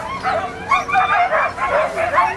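Pack of sixteen sled dogs at a mushing race in Savoie, barking, yipping and whining excitedly in overlapping bursts, close and loud.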